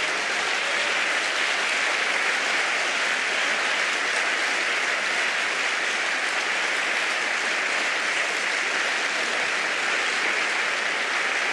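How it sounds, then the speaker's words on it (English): Sustained, dense applause from a conference audience during a final plenary session, greeting the organising team; steady and even throughout, with no clear voices on top. "Maybe a round of applause for them."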